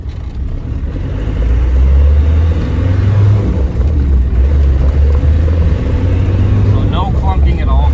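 A 1996 Land Rover Defender 90 with the 300Tdi diesel rolls along a bumpy dirt road, its engine and road noise forming a loud, steady low rumble heard from inside the cabin throughout.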